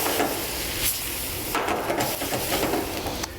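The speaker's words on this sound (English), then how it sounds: "I'm going to add some wine to that. And the wine's going to do a couple of things" Wine poured into a very hot pan with shrimp over a high flame gives a steady sizzle and hiss of steam, constant and fairly close, with a few light clinks of cookware.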